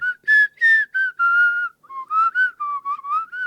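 A person whistles a lively run of clear, pitch-shifting notes in short phrases with brief gaps, loud and close, with no talking.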